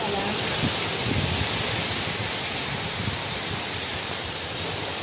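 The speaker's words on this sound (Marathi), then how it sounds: "वादळ थांबायचं नाव नाही घेत आहे बघा" Cyclonic storm on the Konkan coast, a steady roaring hiss of heavy rain and wind that never lets up, loud and enveloping.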